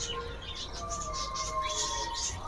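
Pet lovebirds chirping in a cage, a run of quick, bright tweets and short calls close by over a low background hum.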